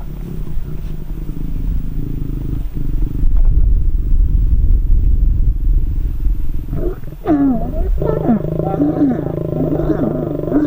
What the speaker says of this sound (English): So now we've got him here with a lioness that he's busy courting and mating with.